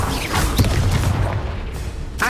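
The Bombarda spell exploding in the video game Hogwarts Legacy, a loud, close burst of booms followed by crackling, with a voice briefly heard in the mix.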